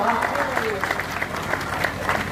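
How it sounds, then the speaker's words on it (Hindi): Loud, dense applause from a crowd at a public speech event in Barabanki, clapping steadily throughout, with a voice faintly underneath. "यहाँ से लेकर यहाँ जोरदार तालियां आप सबके हो जाए"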